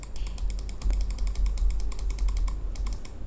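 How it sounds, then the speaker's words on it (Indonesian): Computer mouse clicks picked up by a PC microphone on a Gaming Freak tripod stand, a quick run of sharp close clicks repeating steadily over a low hum, no voice. "kita klik guna mouse tengok"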